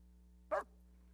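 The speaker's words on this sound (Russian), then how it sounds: "На многих стойбищах собаки приветственным лаем встречают знакомый вездеход." A single short dog bark rings out at a tundra reindeer-herders' camp, greeting an arriving all-terrain vehicle. It is faint and brief over a steady low hum.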